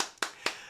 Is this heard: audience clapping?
yes